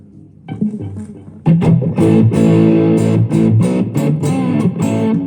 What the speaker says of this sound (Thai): ตอนนี้เสียงดิสโทชันจะมาแล้วนะครับ